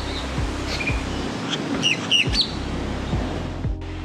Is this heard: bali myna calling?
yes